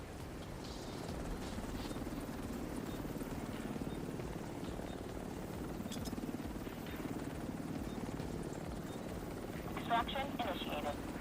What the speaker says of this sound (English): Chopper on site.